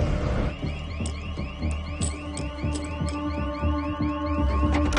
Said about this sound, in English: We got an alarm at Lincoln Dominion Bank in Zone 7.